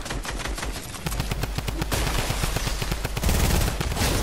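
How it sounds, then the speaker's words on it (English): Rapid automatic gunfire in Fortnite, with dense, loud, close bursts of shots rattling continuously and growing heavier toward the end. "someone's trying to shoot me from behind"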